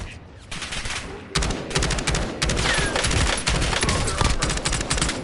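Dense automatic gunfire in the video game Call of Duty, loud rapid bursts that keep going almost without a break, with brief game sounds mixed in and no talk over them.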